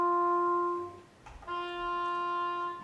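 An oboe holds a sustained note, first softly, then after a short pause the same note returns louder and brighter, rich in upper overtones, played alone.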